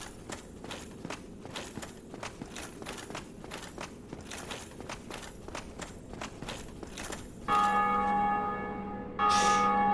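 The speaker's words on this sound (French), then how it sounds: "à chaque fois qu'on va entendre cette cloche, ça veut dire que quelqu'un, quelque part, en ligne, fait sonner cette cloche" A church bell rung by another online player in Dark Souls tolls as a steady, ringing series of strokes under footsteps, before a sustained tone and a louder burst of game sound take over near the end.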